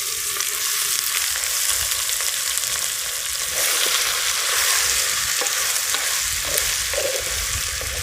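Vegetables sauté in oil with onion and tomato for a Tamil karipala kulambu, a steady close sizzle and crackle running throughout with occasional scraping stirs, no voices.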